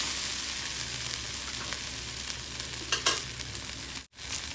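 Okra frying in a pan, heard as a faint, steady hiss with a few soft stirring scrapes near the end and a brief drop-out.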